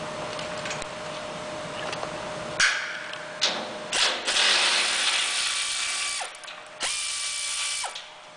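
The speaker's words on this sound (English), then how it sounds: "with your 3/4 inch socket and your vice grip, you pull the 6 bolts, 3 on the side, off of the wings" A 3/4 inch socket ratchet loosening bolts on the wings of a 2016 Heatmor wood furnace during a weldment changeout: bursts of rapid metallic clicking, with clanks and brief pauses between turns.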